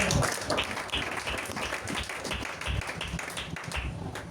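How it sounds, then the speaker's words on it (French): Congregation claps for the Lord at a church service, dense overlapping handclaps in a lively continuous burst of applause, loud and steady throughout. "Clap for the Lord."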